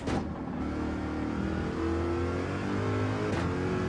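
A Corvette race car at Le Mans in Gran Turismo 7 brakes hard, its engine a loud, continuous drone whose harmonic pitch shifts with the slowing revs, with no voices.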